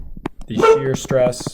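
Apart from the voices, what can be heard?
dog barking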